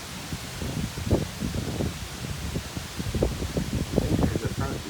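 Strong wind during a windstorm on an island gusts against the microphone in uneven low rumbling bursts, with leaves rustling, and someone speaks over it.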